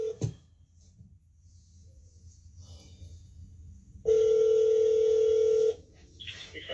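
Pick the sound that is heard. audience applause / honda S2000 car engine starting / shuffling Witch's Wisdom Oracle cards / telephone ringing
telephone ringing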